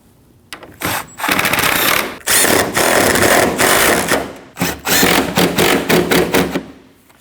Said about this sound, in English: Now you can install your 3 10mm bolts. And tighten all 3.